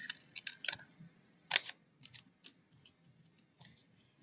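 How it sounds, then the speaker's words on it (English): Scissors cut a heart shape out of folded paper. A string of crisp, close snips comes at an uneven pace, with one louder cut, against near silence. "I'm going to quickly cut this heart out."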